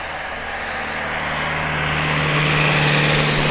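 Aircraft engine drone at an East Midlands Airport airshow, a steady loud roar with a sustained low hum that swells slightly toward the end, no talk over it.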